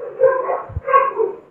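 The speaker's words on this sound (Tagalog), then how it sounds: "pasensya na po kayo, ingay na naman ng mga aso dito." Dogs bark and yelp close by in two quick bursts, with the yips running together in a short, loud outburst.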